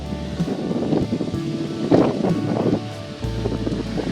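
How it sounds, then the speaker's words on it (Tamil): Strong wind buffets a hilltop rock temple in steady loud gusts, roaring across the microphone for the whole stretch with no one speaking. "அதுக்கு மேலே செம்மையாக காத்தடிச்சது நான் பேசியதே கேட்குதான்னு தெரியாது உங்களுக்கு"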